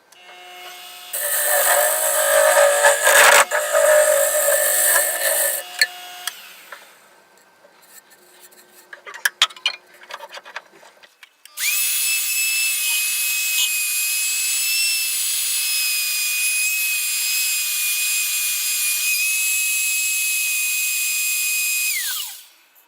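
A turned wooden piece being smoothed on a lathe, with a rough rubbing, rasping noise over the spinning workpiece, followed by a steady high mechanical whine from the machine running on its own.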